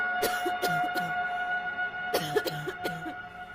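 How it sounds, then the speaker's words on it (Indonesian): Two clusters of three dry coughs each, separated by a short pause, close and clear over a steady low hum. "ada suara batuk dari belakang Pringgo"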